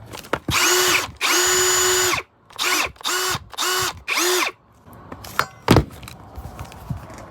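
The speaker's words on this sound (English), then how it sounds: "It's nice to have a little compact drill." A small compact cordless drill revs in several short bursts, close and loud, with rising and falling motor whine, followed by clicks and handling noises.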